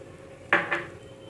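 A spoon clinks twice against a glass as sugar is added to a lychee mojito, two quick, close, bright taps in an otherwise quiet kitchen.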